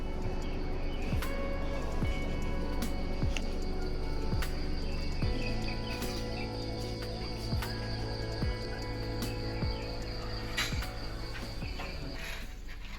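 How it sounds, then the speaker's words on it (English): Insects and birds in the Vietnamese countryside near a hotel, with a steady cricket-like chirring and repeated sharp bird chirps and calls rising over it, fairly close and continuous, without talking. "you can hear the birds chirping and the countryside beauty"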